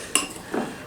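A spoon clinks against a bowl while stirring an egg mixture, one sharp tap followed by a softer scrape, close and brief.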